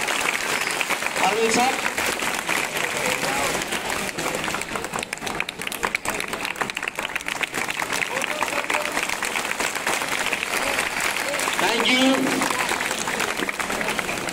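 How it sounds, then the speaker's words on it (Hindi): Steady applause fills a school certificate ceremony honouring science teacher Arvind Kumar Singh, continuous and fairly loud throughout, with a voice speaking briefly over the clapping. "कृपया जोरदार तालियों से इनका स्वागत करें।"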